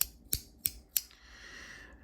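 A Lautie x ACEdc haptic coin fidget toy gives three sharp, close metallic clicks at even intervals, then a faint scraping slide, heard alone in a quiet room.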